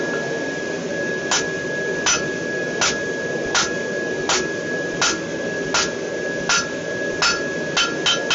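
Steady hand-hammer blows ring out on hot metal being forged into tongs, using a heavy hammer, about a dozen evenly paced strikes that quicken near the end, over a constant mechanical hum.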